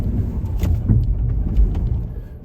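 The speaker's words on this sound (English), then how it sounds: "you can hear the tires slipping and spinning" Ford Bronco Sport tires slipping and spinning on an off-road trail, heard as a steady low rumble of engine and tire noise with scattered gritty bursts, fairly close and continuous.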